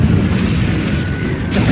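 A Bombarda or Confringo spell explodes in the Hogwarts Legacy video game as a deep, loud rumbling boom that holds for over a second, with a sharper burst at the very end.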